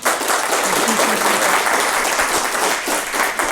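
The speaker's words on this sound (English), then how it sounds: "Can we have applause for Fred?" Sustained audience applause at a tech community conference talk, dense and steady throughout with many hands clapping together, close and loud.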